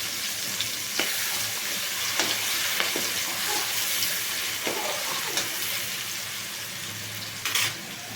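Ginger, chili and garlic paste frying in hot oil with mustard seeds, cumin, turmeric and curry leaves, giving a steady close sizzle with a few soft stirring clicks and no talking.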